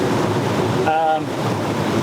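Open-ocean waves and swells break around a 37ft Shannon sailboat at sea, a loud continuous rushing wash with wind buffeting the microphone, and a brief tonal creak or whine partway through.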